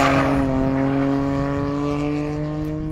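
Rally car number 89, driven by Guillermo and Juan Bellido at Rally Hornillos 2024, roars past at speed with a loud, steady engine drone and a strong harmonic whine that holds close for several seconds.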